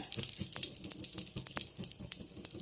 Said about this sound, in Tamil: பட்டை கிராம்பும் ஏலக்காய் கொஞ்சம் பொரியிற அளவுக்கு சும்மா வறுத்து விட்டுக்கணும்